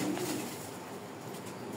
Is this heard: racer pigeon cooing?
yes